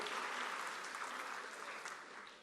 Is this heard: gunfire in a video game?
no